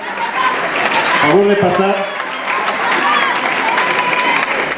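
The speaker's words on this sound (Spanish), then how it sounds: "Un aplauso, por favor." An audience at an award ceremony in Puebla-Tlaxcala applauds steadily and loudly throughout, a dense clapping wash with a voice speaking over it from a sound system.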